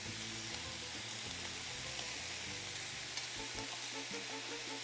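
Ground beef browns in a pan for a tamale pie, giving a steady, close sizzle that runs without a break, with faint background noise and no talking.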